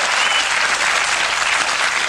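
Studio audience applause on a British late-night comedy show, a dense, loud, steady wash of clapping that fills the whole stretch without any voices over it.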